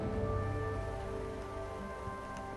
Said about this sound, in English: Hope the rain lets up soon.